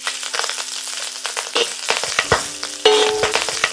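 Shiitake, wood ear and daylily are stir-fried in a wok over medium heat, a close crackling sizzle broken by irregular scraping strokes of a spatula and a few clanks against the metal.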